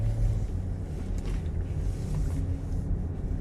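A Range Rover with a freshly replaced mechatronic unit and changed gearbox oil drives along, its low engine and road rumble steady in the cabin with wind noise, a brief shift in tone marking a gear change, no voices.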